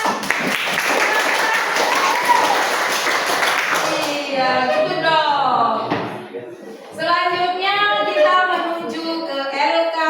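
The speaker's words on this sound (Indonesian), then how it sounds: "Silakan duduk, tepuk tangan yang meriah." Audience applause at an Indonesian teacher-training session on deep learning. A dense, steady clatter of clapping fills roughly the first four seconds, then it gives way to a voice and tonal sounds.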